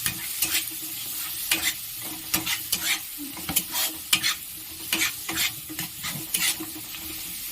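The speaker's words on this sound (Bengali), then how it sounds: "আর দিলাম কসুরি মেথি পাতা। এটা কিন্তু দিতেই হবে। ভালো করে কষিয়ে নেব।" Spices with Kashmiri chilli powder and dried fenugreek leaves sautéing in a pan for a dhaba-style egg tarka, a steady sizzle under repeated quick scrapes and stirs of a spoon, close up and with no voices.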